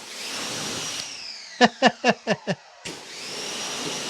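A dual pressure washer setup rated at 4.2 GPM hisses steadily, cuts off for a moment while five quick, evenly spaced pulsing bursts sound, then resumes its continuous spray.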